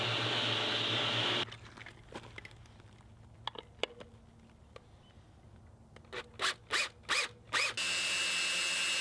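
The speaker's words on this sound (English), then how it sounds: "And I also cut some stakes on the table saw." A power tool whines steadily at the start and end, with intermittent cutting bursts and clattering in between, as a table saw rips old 2x6 boards into wooden stakes in a workshop.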